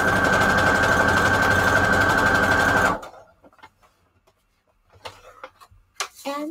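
Sewing machine stitching junk journal pages, a loud rapid steady motor whir with fast needle ticking for about three seconds, then stopping abruptly, followed by faint rustles, soft handling clicks and brief quiet voices.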